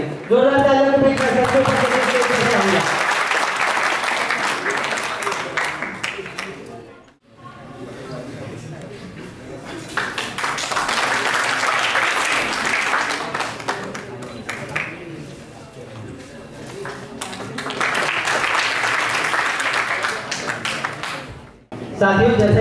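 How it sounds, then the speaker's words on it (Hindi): An audience at a students' award ceremony claps loudly and steadily in three extended bursts, each easing off briefly before swelling again, with a hint of voices mixed in. "जोरदार तालियों के बीच"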